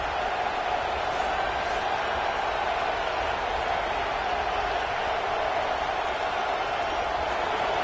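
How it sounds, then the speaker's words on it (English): Football stadium crowd at an Oklahoma vs Notre Dame game, a steady, dense roar of thousands of voices holding constant and loud, with no breaks and a faint whistle-like tone briefly above it. "This crowd, full throat, spreading the eardrums and letting them know it's going to be a long day."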